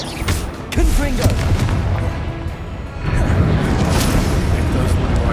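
Confringo spell blast in the Hogwarts Legacy video game, a loud booming burst followed by crackling, explosive rumble and a second surge of blasts, with a voice speaking over it.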